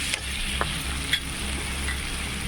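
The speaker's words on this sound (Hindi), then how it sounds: "अंडा ऐसा आलू में डाल दीजिए।" Eggs added to potatoes in a pan for an egg and potato curry, hissing in a steady, loud sizzle throughout, with a few faint clinks from utensils.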